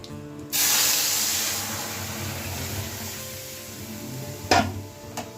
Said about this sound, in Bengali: ডালটা একটু সাদলিয়ে নিচ্ছি শুকনো লঙ্কা, জিরে আর তেজপাতা দিয়ে